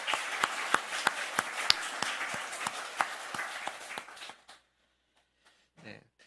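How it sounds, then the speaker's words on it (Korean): A church congregation at a Sunday worship service applauds young adults with steady, rhythmic clapping from a crowd that fades out after a few seconds into near silence. "우리 박수로 격려하겠습니다"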